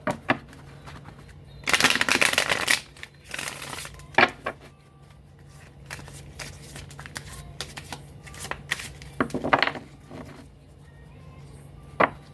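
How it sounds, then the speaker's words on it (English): Tarot cards being shuffled in several brisk riffling bursts, with quieter handling and taps in between, close up over a low steady hum. "we got to do a couple more shuffles"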